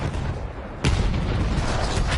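A single heavy explosion in the World War I shooter Battlefield 1 hits abruptly after a brief lull. A loud rumbling wash of debris and battle noise follows and continues to the end.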